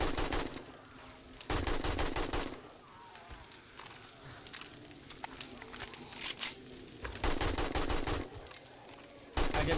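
Bursts of rapid gunfire shooting at zombies in the survival game 7 Days to Die, several loud stretches of automatic fire separated by quieter gaps with scattered shots and movement noise.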